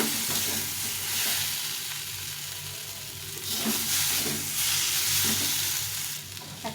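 Mashed potato gravy for a soybean curry fries in a pan with a constant close sizzle, while a spatula stirs and scrapes through it in slow, uneven passes.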